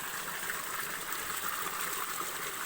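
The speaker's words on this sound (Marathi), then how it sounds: "पाईपातनं पाणी निघतं" Water pouring out of a pipe into a village gutter channel, a steady unbroken gush heard up close with no voices.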